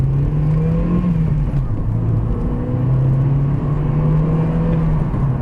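Vauxhall Astra accelerating hard on a bypass, a loud steady engine drone and rumble with shifting pitch heard from inside the car, no talking.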